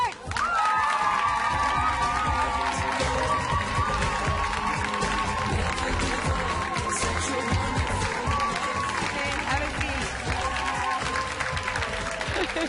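A large studio audience in Zurich gives loud, sustained applause with cheering and shouts to welcome a band, a dense continuous roar of clapping and voices.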